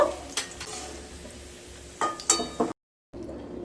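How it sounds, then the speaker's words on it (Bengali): Cashews and raisins quietly fry in oil in a pan, with a few scraping stirs and clinks, then a brief silence before the low sizzle resumes. "কাজু আর কিশমিশগুলো ভাজা হয়ে গেছে এবার তুলে নেব"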